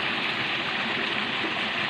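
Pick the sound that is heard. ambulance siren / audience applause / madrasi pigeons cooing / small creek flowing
small creek flowing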